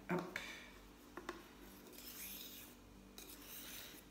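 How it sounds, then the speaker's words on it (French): A homemade anti-acne face mask mixture being stirred in a small dish, with faint scraping and light clinks of a utensil against the container, close and quiet. "Et on remue."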